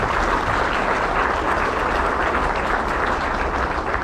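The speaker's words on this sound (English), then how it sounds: "Let's give them all another round of applause, please." An audience gives a round of applause at a school district end-of-year celebration, a dense, steady clapping from a large crowd that continues evenly throughout.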